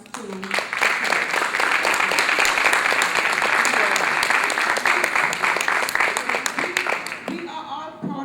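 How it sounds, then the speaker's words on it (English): A sustained round of applause from an audience at a book talk, many hands clapping steadily for about seven seconds before fading out, with a few voices underneath. "I just want you to give another round of applause to..."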